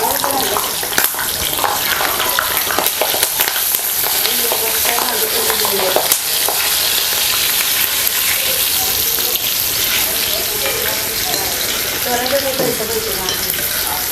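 Green chillies deep-frying in hot oil for serving with bhaji, giving a loud, dense, continuous close sizzle and bubbling with faint stirring underneath.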